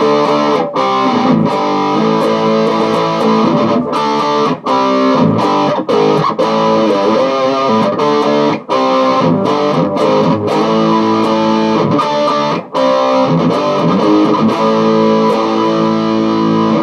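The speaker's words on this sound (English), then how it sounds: "you obviously have something that sounds a little bit like this" Heavily distorted electric guitar chords chug steadily and loudly, with brief gaps between strummed phrases and no talking.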